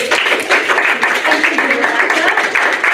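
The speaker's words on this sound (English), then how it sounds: "a round of applause for everybody" An audience at a talk on garden history claps steadily and densely for a few seconds, a continuous patter of many hands at moderate loudness.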